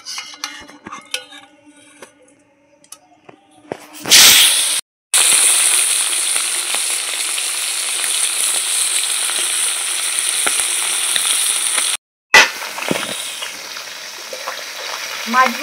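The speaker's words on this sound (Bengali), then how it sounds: "ট্যাংরা মাছগুলো আমি এখন ভেজে নিচ্ছি।" Tangra fish sizzle loudly in hot salted oil in a wok, a steady bright frying hiss that cuts in abruptly with brief breaks and a few utensil clinks, quiet kitchen sounds before.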